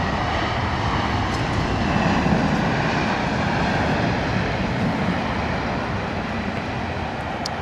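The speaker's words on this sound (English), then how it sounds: "Here we go, A320neo coming in, British Airways" A British Airways Airbus A320neo landing at Heathrow produces a loud, steady broadband jet roar that swells slightly and then eases, close and unbroken throughout.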